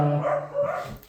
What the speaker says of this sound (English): All my dogs are barking at the moment.